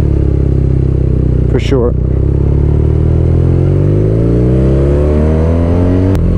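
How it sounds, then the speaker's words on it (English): A BMW R nineT twin-cylinder motorcycle engine drones loud and close, its pitch climbing steadily as the rider accelerates, with a brief voice near the start and a sharp click near the end. "this is a twin, somehow made it past noise regulations"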